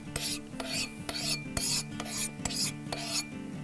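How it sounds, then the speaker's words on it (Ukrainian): Scratching across the surface of an Automatic ARC2 rifle chassis: repeated rasping, filing-like strokes, about a dozen in quick irregular rhythm, close and fairly loud, with a low ringing resonance under them, no speech. "Ні, я спробую його пошкрябати"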